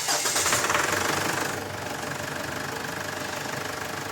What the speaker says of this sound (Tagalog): Start ko na nga itong makina